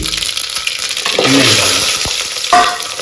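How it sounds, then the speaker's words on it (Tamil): Mustard seeds spluttering in hot oil for a wedding-style sambar, a steady close sizzle with sharper crackling bursts and stirring clatter, loudest in the middle and again near the end. "ஸோ எண்ணெய் காஞ்ச உடனே நம்ம கடுகு போட போகிறோம். கடுகு பொரிஞ்ச உடனே"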